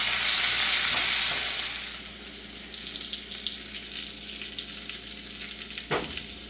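Onions, garlic, jalapeno and tomatoes frying in a pan for an omelette, with a loud broad sizzle at first that fades after about two seconds into a quieter steady crackle, and a brief clatter near the end.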